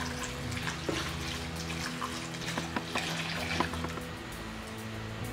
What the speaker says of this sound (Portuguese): E vou colocar água aqui até cobrir